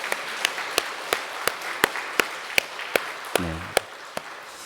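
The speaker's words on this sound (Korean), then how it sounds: "우리 하나님 앞에 감사와 영광의 박수 한번 올려드렸으면 좋겠습니다" Clapping at a church service in praise of God: single sharp claps land in a steady, even rhythm, fairly close, with a short tonal sound just before the final few claps.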